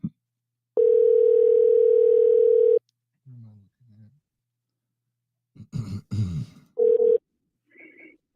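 A telephone ringing tone during a call, one steady loud tone lasting about two seconds and a short repeat later, between bits of nearby speech and coughing.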